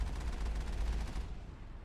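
Rapid continuous gunfire aimed at turrets in Mass Effect, a fast rattling stream of shots that cuts off near the end.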